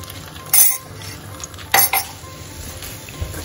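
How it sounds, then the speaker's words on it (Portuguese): Pasta with beaten egg is stirred in a pan, with a few sharp utensil clinks and scrapes against the pan over a quiet, low sizzle. "A gente vai misturar até esse ovo cozinhar"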